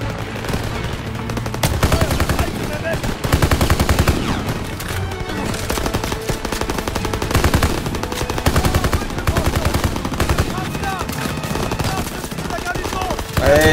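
Continuous machine gun fire in the Call of Duty WW2 video game, dense rapid bursts with heavy battle noise throughout, loud and close, with some voices underneath.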